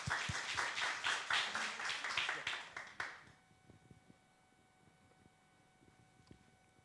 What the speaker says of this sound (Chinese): 好，拍手。